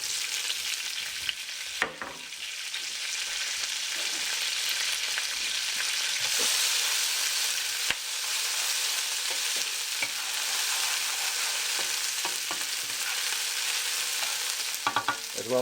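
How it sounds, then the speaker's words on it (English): Green onions sizzle and crackle steadily in a hot pan during a sweet and hot pork stir-fry, a loud continuous frying hiss broken by a few sharp clatters and stirring knocks. "We're going to be throwing in our green onions first."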